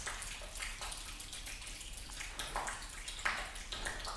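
Water from a rinse sprays and runs over a car's body panel treated with a spray sealant, a steady close-up splashing hiss with small surges throughout.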